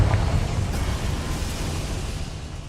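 The Confringo fire spell in Hogwarts Legacy lets out a loud, rumbling explosion. A dense, broad roar with heavy low end hits at once and then slowly trails off. No voices are heard.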